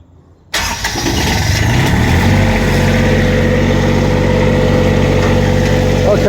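A diesel standby generator cranks and catches after a brief quiet moment, then settles into a loud, steady running rumble close by.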